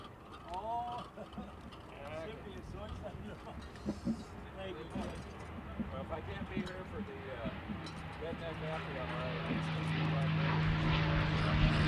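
A Packard-built Rolls-Royce Merlin engine of about 1,500 horsepower begins its takeoff roll at an air show, a droning propeller roar building steadily louder toward the end beneath a commentator's continuous talk.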